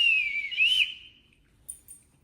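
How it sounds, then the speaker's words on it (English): A whistle is blown once in a clear, rising and falling shrill tone lasting under a second, followed by two brief faint chirps in near silence. "It's a whistle which uses sound energy"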